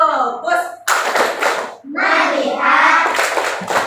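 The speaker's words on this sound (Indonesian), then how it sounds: "Tepuk fokus." Schoolchildren in a fourth-grade classroom clap a short patterned focus rhythm in bursts, interleaved with the class chanting together, close and lively.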